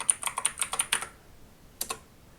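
Quick run of keyboard keystrokes as a password is typed on a computer keyboard, about eight crisp clicks in a steady burst, then a pause and one or two final taps, close and clear with no talk.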